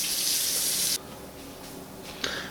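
A kitchen tap runs hard while raw deer hind-leg meat is washed under it, a loud close rush that cuts off abruptly and then comes back briefly with a splash near the end.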